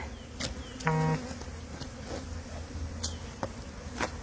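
Honey bees buzz around beehive comb left out in a yard, a soft continuous hum with a few individual insects zipping close past in brief louder passes.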